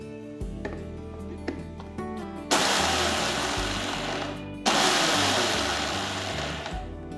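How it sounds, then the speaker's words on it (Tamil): A mixer grinder pulsing raw rice roars in two loud bursts of whirring, with shorter pulses and motor hum between, close and loud with no talking. "இந்த பச்சரிசியை மிக்ஸி ஜாருக்கு மாற்றி குறகுறப்பாக பல்ஸ் மோட்லேயே நம்ம அரைச்சிக்கணும்"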